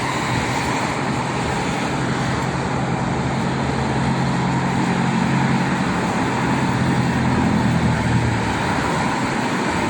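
Heavy, congested traffic on the Jakarta–Cikampek toll road after the holiday, a continuous broadband rumble of car and truck engines and tyres that stays steady and fairly close throughout, with no voices.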